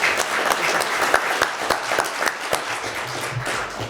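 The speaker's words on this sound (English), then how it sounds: "Let's give them a round of applause." Audience applause at a barber and beauty business summit, a steady patter of many hands clapping together that carries on evenly for several seconds before easing off, with a faint voice underneath near the end.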